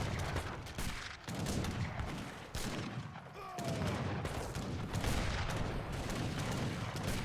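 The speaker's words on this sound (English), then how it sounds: "The howitzers are doing good damage here" Howitzer artillery fire in an eight-player free-for-all battle of Age of Empires III, a dense continuous barrage of overlapping booms and gunfire bursts, loud throughout with no talk.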